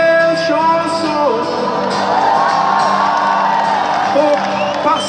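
Concert crowd at a stadium show in Lyon in 2017, cheering, whooping and shouting steadily and loudly, with music in the background.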